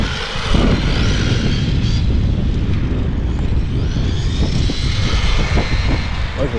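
A Tamiya MF01X brushed RC car with a Golf body on a 2S LiPo, driven around a track. It gives a steady, loud motor whine and tire rumble that stays continuous throughout, with no talk.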